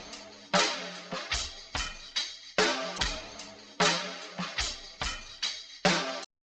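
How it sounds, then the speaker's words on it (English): A punchy drum loop with gritty, distorted hits plays in a steady rhythm, each beat swelling and cutting off abruptly, ending in silence. "I put a little bit of distortion on using Cymatic's Origin,"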